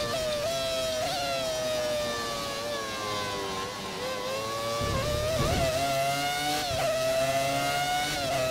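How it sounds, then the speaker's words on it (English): A classic Formula 1 car in the F1 2013 racing game at the Malaysian Grand Prix gives a sustained, high-pitched engine scream that rises and falls with gear changes. It stays loud and steady throughout, with no talking. "The engine makes me so hype."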